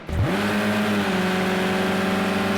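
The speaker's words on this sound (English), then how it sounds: "let's go on board with Andy's Astra as we head down Wellington Straight again" Vauxhall Astra touring car on Wellington Straight at Silverstone National in Project Cars 2: a loud, steady engine drone holding high revs after a quick rise, heard onboard with no talk.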